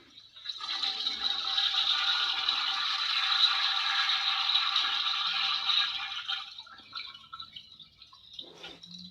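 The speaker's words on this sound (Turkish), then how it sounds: "Sifonunu bir daha çekelim bakalım." A Pilsan toy training toilet flushes with a steady rushing gush of water for several seconds, then tapers off into trickles and a brief rattle.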